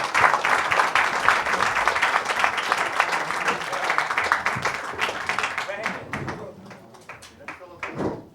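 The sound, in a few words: audience applauding at UFC press conference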